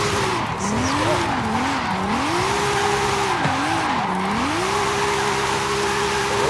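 A 2019 Nissan 370Z Nismo in Forza Horizon 5 sings with a steady engine drone while its tires squeal and skid continuously, the pitch weaving up and down as it slides.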